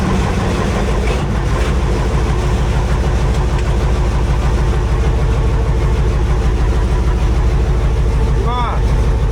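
The engine of a KrAZ 255 truck, starting after twenty years of standing idle, runs at a loud, steady, throbbing idle close up throughout.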